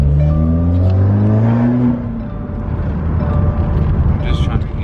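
A 2015-or-later Subaru WRX with a Mishimoto intake revs up in a loud, close engine drone whose pitch climbs, then drops back to a rough idle rumble.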